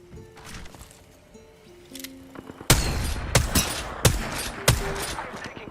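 Several loud, sharp gunshots in the Apex Legends video game crack out at irregular intervals after a quieter stretch of faint game sounds and tones.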